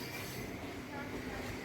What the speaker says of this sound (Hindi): हमारी ट्रेन 5 और 6 नंबर प्लेटफॉर्म की तरफ जा रही है